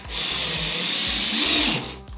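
A power drill drives screws into a flat-pack kitchen cabinet, a high motor whine running continuously with a rapid thumping of the clutch or screw beneath it, close and fairly loud, easing off near the end with no speech.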